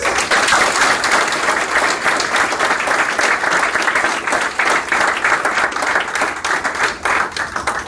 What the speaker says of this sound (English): Maybe we can give them a quick round of applause.